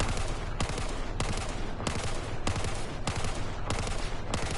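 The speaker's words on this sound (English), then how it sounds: "with the ergo grip, we're gonna start right here, 3 to 5 round burst" Repeated short bursts of gunfire from a rifle with an ergo grip in Battlefield 4, about five bursts in steady rhythm, close and loud with no talking.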